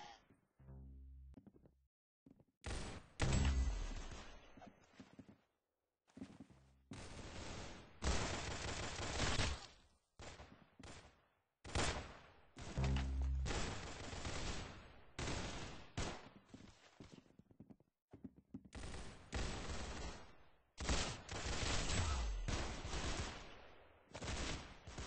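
Rapid bursts of video-game gunfire ring out in Roblox Arsenal, loud, clustered volleys and automatic strings broken by short silent gaps, with no one talking.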